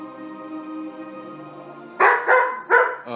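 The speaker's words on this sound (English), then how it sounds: "That's the bark we saw at last night." Several loud, close dog barks burst out in a quick series of three after a steady tonal hum, with dogs in a bedroom squabbling over a ball.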